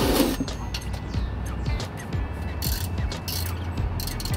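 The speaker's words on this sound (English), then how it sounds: "set my ratchet up correctly" A short ratchet clicks rapidly in quick bursts while tightening the oil drain plug under a 2015 Nissan Rogue, the close, sharp mechanical ticks repeating with brief pauses between strokes.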